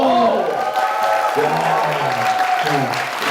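An audience applauds on a Korean talk show, a steady wash of clapping that runs the whole moment, mixed with tonal background sound and voices.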